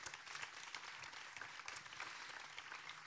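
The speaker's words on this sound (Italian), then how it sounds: "vi chiederei di continuare il vostro applauso per i nostri ospiti" An audience at an evening talk on climate change keeps up a continuous round of applause for the guest speakers, moderately loud and even, with individual claps flickering through.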